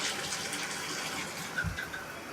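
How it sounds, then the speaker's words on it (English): Shower water runs into a hotel bathtub at a Quality Inn, a steady broadband hiss of spray and splashing that holds at an even level for the whole stretch, with a brief low thump near the end. "Turn the shower a little bit."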